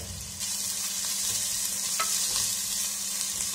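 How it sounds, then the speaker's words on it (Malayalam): Sliced onions sauté with ginger, garlic and three green chilies for a green peas curry, giving a steady, close, even sizzle that holds throughout with no voices. "ഇനിയിപ്പോ സവാള ഒന്ന് സോഫ്റ്റ് ആയി വരട്ടെ, അതുവരെ നമുക്കൊന്ന് സോട്ട് ചെയ്തെടുക്കാം."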